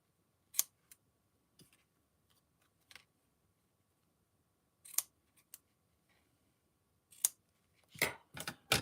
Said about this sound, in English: let's just cut these down a bit